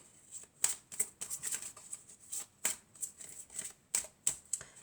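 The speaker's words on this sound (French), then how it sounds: "on va mélanger encore un peu" Tarot cards shuffled by hand in quick, uneven bursts of crisp riffling and slapping, close and fairly quiet, with no talking.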